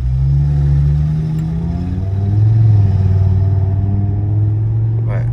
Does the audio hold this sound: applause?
no